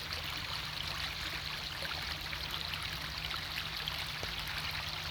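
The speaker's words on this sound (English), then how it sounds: "We have our own little brook for a little while." A small brook of running water flows steadily and close by, a continuous broadband rush and trickle with no voices over it.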